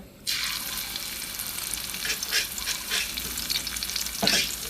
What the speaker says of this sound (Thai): พอน้ำมันร้อนนะคะ ใส่พริกแกงลงไปผัดให้หอมเลยค่ะ